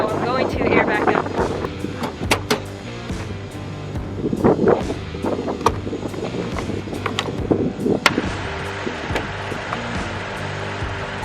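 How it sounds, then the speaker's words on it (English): Strong wind buffets the microphone on an exposed off-road ridge beside a Toyota Tacoma, loud gusty rumbling with sharp clicks and knocks, while a person talks over it throughout. "So it's really windy up here"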